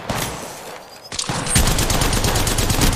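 Gunfire in the Apex Legends video game: a loud, dense volley of rapid automatic shots that starts partway through and keeps going to the end, following a quieter stretch.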